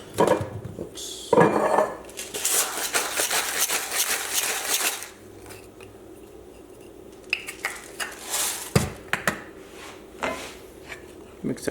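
Metal utensils scrape and clatter against a pan as salt and pepper are stirred into a steak and mashed potato dish, with irregular close clinks and rubs, a louder burst early on, then quieter intermittent scraping.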